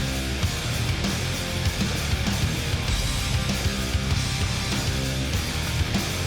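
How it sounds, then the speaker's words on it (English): Recorded rock song with explosive, powerful drumming under dense distorted guitars and full band, loud and continuous throughout. "Listen to that recording over the drums."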